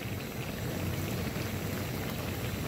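Bay leaves and chopped onion fry in plenty of hot oil in a small pan, making a dense, steady bubbling sizzle throughout with no voices.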